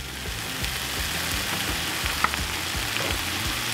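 Salsa poured over chicken sizzles and bubbles in a hot pan for taquitos, a dense crackling fry up close with small pops, steady and without voices.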